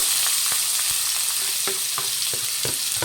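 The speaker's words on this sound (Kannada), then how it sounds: "ಈರುಳ್ಳಿ ಚೆನ್ನಾಗಿ ಫ್ರೈ ಆಗಿದೆ" Finely chopped onions fry in a hot pan, a steady close sizzle broken by repeated soft scrapes and taps of a spoon stirring them, with no talking.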